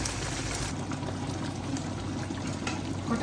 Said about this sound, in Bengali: সামান্য একটু পানি ঢেলে দিয়ে দিলাম